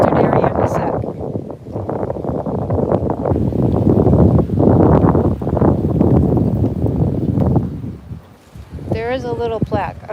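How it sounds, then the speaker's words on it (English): Strong outdoor wind buffeting the microphone on a Friday morning walk, heavy gusty rumbling throughout, with a person talking intermittently. "bear with me because it's very windy."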